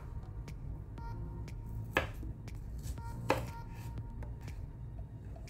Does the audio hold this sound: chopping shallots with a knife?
yes